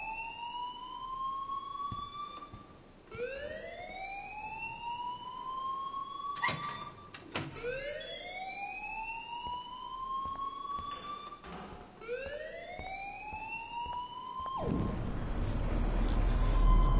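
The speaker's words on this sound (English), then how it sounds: "please turn off that alarm since that's your job." Electronic alarm in the video game Life is Strange, rising whooping siren tones repeating every few seconds, loud and continuous without speech, with a rumbling noise building near the end.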